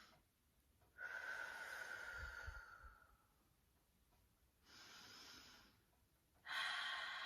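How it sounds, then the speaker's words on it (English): Slow, deep breaths drawn in and let out close by in a quiet room, with pauses of near-silence between them. "Couple of deep breaths again."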